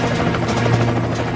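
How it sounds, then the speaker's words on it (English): A United States Coast Guard rescue helicopter flies close by, its rotor and engine making a loud, steady, throbbing drone throughout this brief moment. "A United States Coast Guard air rescue helicopter races into hostile territory."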